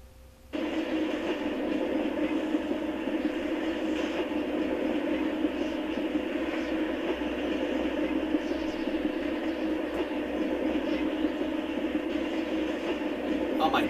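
A train rolls steadily along in the Polar Express video game, a constant mid-range rumble and hum starting abruptly after a brief quiet moment and holding evenly to the end.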